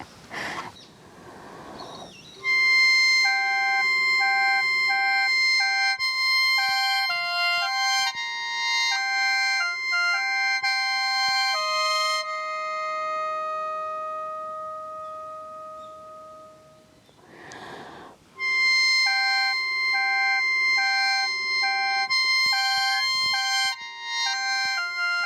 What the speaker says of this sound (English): The Senghwang sounds as mystical as it looks.